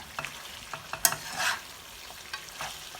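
Mutton black pepper roast stirred in a pan over low gas, with a gentle, steady sizzle and scattered scraping clicks of the spoon against the pan, moderately close, with no talk.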